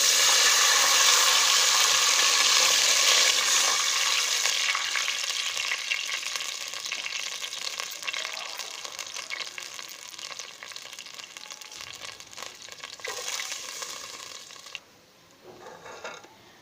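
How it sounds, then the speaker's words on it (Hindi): Loud, dense sizzle as water hits hot frying masala for chole chawal, a burst that settles into steady bubbling hiss and fades near the end. "अब मैं इसमें पानी शामिल कर लेती हूँ।"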